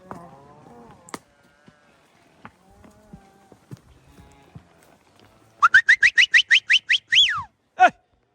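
Cattle being gathered on a hillside in fall, with a series of about eight loud, evenly spaced moos or bellows near the end after mostly quiet outdoor stretches with scattered knocks.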